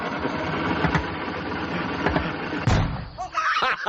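A car engine idles with a low rumbling vibration before driving off, with a door-like thump partway through and the engine note rising at the end.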